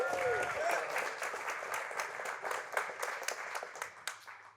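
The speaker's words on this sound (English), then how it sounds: "Let's give you a round of applause." An audience claps and applauds steadily for several seconds, a dense crowd patter that slowly thins out toward the end.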